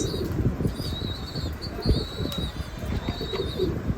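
Pet pigeons coo softly and flap their wings close by in a loft, with soft fluttering bursts and a faint high whistle repeating over a low, busy rumble.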